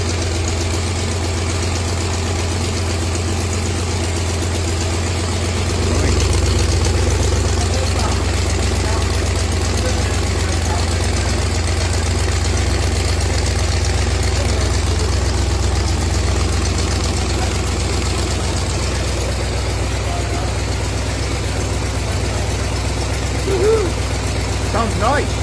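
A classic car, a 1966 Ford Mustang convertible, idles steadily with a low, even rumble that holds for the whole stretch, close and continuous with no revving.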